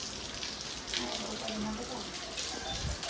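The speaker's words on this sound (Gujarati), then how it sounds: "યાર હજી આ વરસાદ, ખતરનાક વરસાદ આવે છે." Heavy rain pouring down steadily in a broad, continuous wash of noise, with faint indistinct voices underneath.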